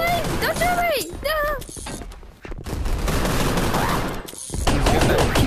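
Rapid bursts of automatic gunfire from the online shooter game Gun Raiders crackle in a dense barrage, with tonal game effects and a player shouting over the shots.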